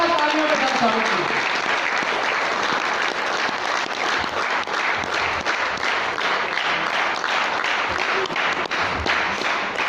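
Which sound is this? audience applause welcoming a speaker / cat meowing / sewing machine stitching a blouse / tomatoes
audience applause welcoming a speaker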